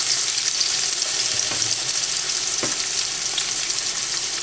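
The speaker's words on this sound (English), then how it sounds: "See that sizzle?" Loud, steady sizzling of green beans frying in a hot pan, a continuous crackle with occasional clicks and scrapes close by.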